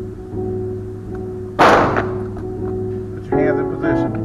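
A single sharp gunshot at a shooting range cracks out loud and near midway through, standing over a steady background hum, with a second fainter burst of activity near the end.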